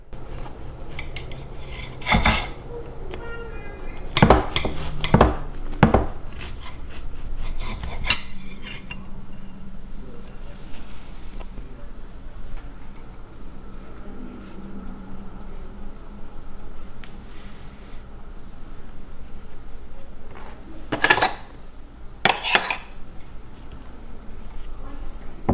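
A knife saws through homemade banana bread with soft rasping strokes, punctuated by sharp clinks of cutlery or dishes near the start and again toward the end, with low kitchen background.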